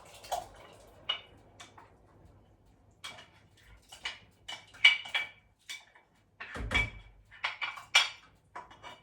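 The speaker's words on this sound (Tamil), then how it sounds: "இப்போ பார்த்தீங்கன்னா நான் ஊற வச்ச சவரிசியை போட போகிறேன்." Soaked sago pearls being added to a pot for payasam, heard as scattered close taps, clinks and wet drips of a spoon against the vessel, with quiet gaps between.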